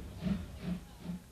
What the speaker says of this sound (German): So konnten die Eisenbahnfreunde am besten den typischen Klang einer Zweizylindermaschine genießen.